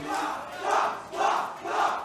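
A crowd at a Super Smash Bros. tournament cheers and roars in three or four rising waves, loud and close, with no clear speech.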